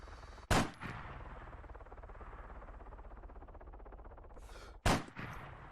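Two sharp, loud Lynx sniper rifle shots in Arma 3, fired at a helicopter a few seconds apart, each followed by a short echoing tail over a low, steady rumble.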